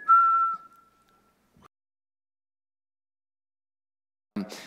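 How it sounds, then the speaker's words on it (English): A single clear whistled tone from one person, held steady for about half a second and then trailing off, with near silence afterward and a brief unrelated noise at the end. "Some of us whistle."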